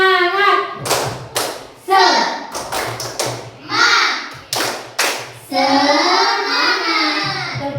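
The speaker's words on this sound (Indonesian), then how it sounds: "Tepuk semangat." A classroom group clapping game led by a teacher, with children clapping in rhythmic bursts of sharp, close slaps and thumps interleaved with voices chanting and speaking between the beats.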